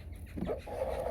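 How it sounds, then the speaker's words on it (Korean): A rooster in a backyard coop gives a short pair of low clucks close by, over a steady background hum and with no talking. "숫닭"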